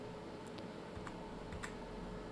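Light keyboard typing as an Excel formula is entered, a few sparse key clicks spread over a couple of seconds, close but quiet against a soft background hum, without any speech.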